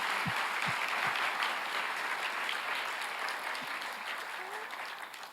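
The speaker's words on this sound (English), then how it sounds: "Can we have a round of applause for these generous donors?" An audience at a quadraphonic sound performance event applauds the donors with a full, continuous burst of clapping, a few low thumps near the start, slowly tapering off.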